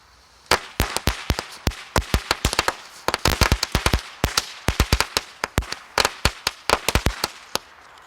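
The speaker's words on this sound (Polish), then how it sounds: "są takie małe petardki" Small karabinek-type firecrackers crack off outdoors in a rapid, irregular string of sharp bangs, dozens of loud pops bunched closely together with brief gaps, heard from a few metres away.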